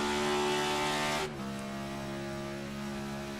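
Race car engine in a racing video game holds a loud steady high rev for about a second, then drops to a lower sustained drone with harmonic whine, heard alone without talk.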